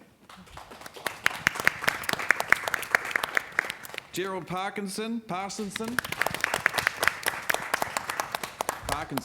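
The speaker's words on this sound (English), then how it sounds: "put your hands together and clap very loudly for Chris Wilkinson" Audience at a live city-planning panel event applauding, dense clapping throughout with a voice briefly speaking over it in the middle.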